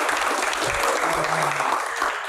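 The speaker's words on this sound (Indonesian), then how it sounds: "tepuk tangan buat Pak Aswarana" Audience applause for Azwar Anas at a live Q&A event, a dense, steady wash of many hands clapping at once, loud and continuous for the whole stretch.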